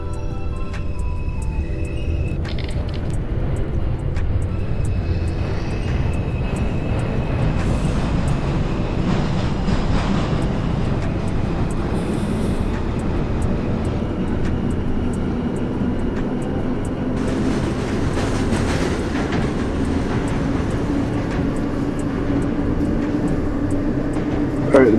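A New York subway train on the 2 line pulls out of 14th Street and accelerates, a loud, rising rumble with rail clatter and whine building throughout, close and steady.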